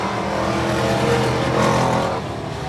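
Stock cars roaring past at Hudson Speedway during weekly racing, a loud sustained engine drone with rising and falling pitch as the pack passes close by, no talk over it.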